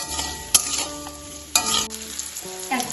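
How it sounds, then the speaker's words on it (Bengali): Raw green mango pieces and yellow mustard seeds being stirred and fried in hot oil for a Bengali sour dal, a steady sizzle with sharp scraping clatters of the spoon near the start and middle, no voices. "ভালোভাবে তেলের সাথে একটু নাড়াচাড়া করে নেব"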